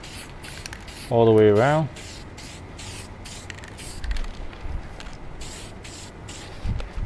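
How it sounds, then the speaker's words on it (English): Aerosol can spraying a finish onto a wooden spindle stool gives a continuous soft hiss in short bursts, close up, with a person talking briefly over it. "when you're doing any kind of aerosol spraying, you want to make sure you're in the open"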